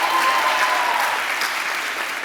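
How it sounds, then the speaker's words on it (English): A crowd at an international school's first graduation ceremony in Dubai breaks into sustained applause, many hands clapping together in a steady wash that slowly fades. "Can we have another huge round of applause for Tala, everybody?"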